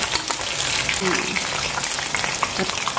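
Battered enoki mushrooms frying in hot oil, with a steady, dense crackling sizzle that is loud and close throughout and has no clear pauses.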